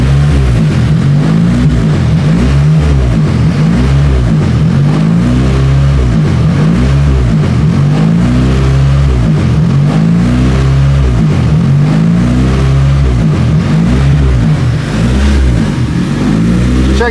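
A car engine idling with a steady low rumble that rises and falls in rhythmic surges, revving up and dropping back repeatedly and close to the microphone, while it is checked for an idle surge and vacuum leaks.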